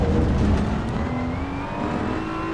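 BMW M4 engine in Assetto Corsa Evo on a night lap of the Nürburgring, revving hard with rising and falling pitch through gear changes, loud and continuous with no voices.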